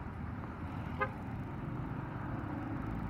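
Congested road traffic on the Kamuning flyover express lane gives a steady low rumble, broken by one short car horn toot near the start.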